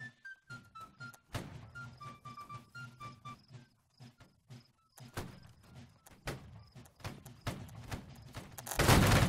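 Musket volley fire from a line of soldiers in the game Holdfast: Nations At War: repeated sharp thumping reports scattered across the clip, some bunched together, ending in a loud burst.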